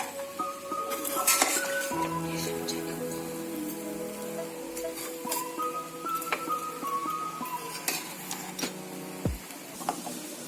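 Fried rice with paneer being stirred in a pan after salt is added, with clinking of a metal spoon against the pan and a faint crackle underneath, steady and close with no talking.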